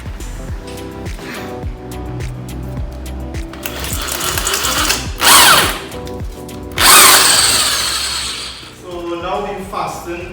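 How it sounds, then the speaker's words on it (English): A power drill with a 1/4 inch bit bores holes through a tire into a wooden plank, whining in bursts that rise and stop, with loud grinding surges near the end and speech around it. "We can drill about 4 or 5 holes just around the pulling screw that we use to fasten the tire to the plank of wood."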